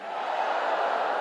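A large crowd at a Trump campaign rally roars and cheers in one steady, dense wash of many voices that lasts the whole moment, with no single voice standing out.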